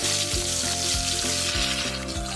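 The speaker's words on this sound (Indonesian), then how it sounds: "Kita goreng-goreng sebentar hingga berubah warna kecoklatan." Salted fish (ikan pindang) frying in a pan: loud, steady sizzling and crackling oil throughout, with a low rhythmic knocking underneath and no talking.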